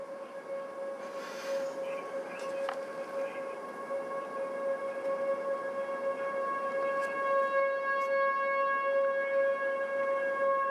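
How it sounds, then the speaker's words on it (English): Tornado warning sirens wail steadily over Canadian, Texas, a sustained tonal drone holding pitch throughout, distant but clear over faint wind, with no voices. "the sirens are active here in Canadian"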